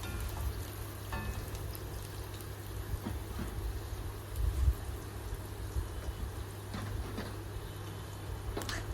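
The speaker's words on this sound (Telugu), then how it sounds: "ఆయిల్లో ఉల్లిపాయలు బాగా వేగనివ్వాలి." Onions fry in hot oil in a pan for a chicken gravy curry, giving a soft, steady sizzle and crackle that stays faint and even throughout, with no talking.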